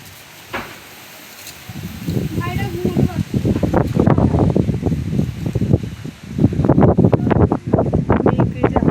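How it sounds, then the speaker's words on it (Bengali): Gusty storm wind buffets the microphone outdoors in loud, surging bursts, rustling and roaring, with a brief calmer start before the gusts build. "ঝড় উঠেছে, এই যে স্কুলে জামা কাপড় দেখুন একটুখানি হাওয়া দিচ্ছে।"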